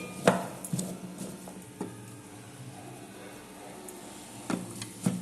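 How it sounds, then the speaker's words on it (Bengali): Vegetables being stirred in a dry pan with no oil, giving a few scattered scraping clatters and light knocks against a quiet kitchen background, with a sharper pair of clanks near the end. "আমি জাস্ট একবার নেড়ে দিলাম"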